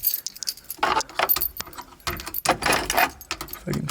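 Car keys jangle and clink in irregular bursts, close and fairly loud, as a bunch is picked up and handled for a car's ignition.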